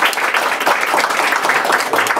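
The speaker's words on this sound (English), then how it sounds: "So another applause, please." Audience applause after a thesis defense, a steady dense patter of many hands clapping at close range, sustained evenly throughout without talk.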